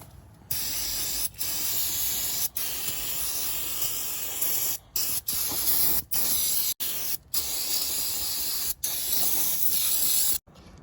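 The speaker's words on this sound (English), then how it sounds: "So I'm going to use this Rust-Oleum rust reformer stuff." An aerosol can sprays Rust-Oleum rust reformer coating onto car control arms in a garage, giving a loud close hiss in several long bursts with brief gaps between them.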